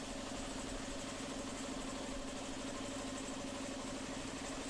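Natural gas and diesel vehicle engines running steadily, a constant low idling rumble with a mechanical hum, no voices.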